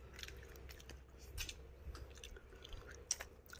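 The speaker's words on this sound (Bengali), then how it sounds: "রানের কামড় দিতেছে, ওরে বা বিশাল বড় আদির রান" A person bites into a large cooked duck drumstick and chews it up close, with soft wet crunching and squishing at an irregular rhythm in a quiet room.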